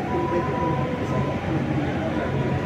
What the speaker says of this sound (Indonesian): Sudah terlihat kereta yang dari Tegaluar menuju Halim.